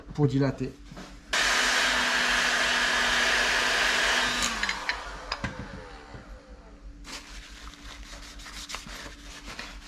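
A heat gun blows hot air onto a lubricated turbocharger part from a Renault 5 Alpine, a steady loud rushing whoosh lasting a few seconds, with a faint hum and a few light clicks and knocks afterward.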